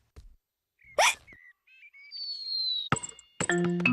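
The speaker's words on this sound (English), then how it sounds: "Oh dear, George's hiccups are spoiling the game." Cartoon piglet hiccups in a children's animated show, heard as a sharp yelp-like burst followed by short squeaky vocal chirps and a thin whistle, then a brighter tonal jingle near the end.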